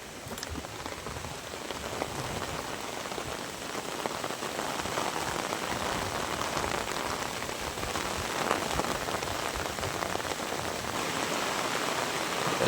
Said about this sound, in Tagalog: Nabutan na naman tayo ng ulan.